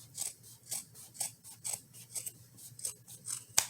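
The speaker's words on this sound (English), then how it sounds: "take your scissors and cut right just above the stitch line" Scissors snip repeatedly through fabric just above a stitch line in a steady rhythm, about seven close, crisp cuts, ending with a sharper click.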